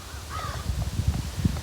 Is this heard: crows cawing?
yes